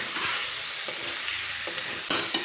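Red lentils are stir-fried in a pan with papaya: a brief, close sizzle with a few sharp spatula scrapes at irregular intervals, no speech.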